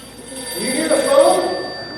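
A telephone rings in the audience during a live magic show, with a trilling electronic ring rising mid-moment over a voice and room noise.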